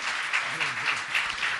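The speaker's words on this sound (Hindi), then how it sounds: "तालियां बजाइए।" Audience clapping for donors named at a religious gathering, a brief burst of steady, even applause throughout.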